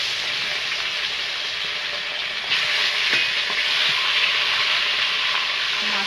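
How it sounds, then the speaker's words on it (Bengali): Salt- and turmeric-coated fish frying in hot oil for a fish and green banana curry gives a loud, steady sizzle that swells slightly midway, with no talking. "মাছটা উল্টে পাল্টে ভেজে নেব।"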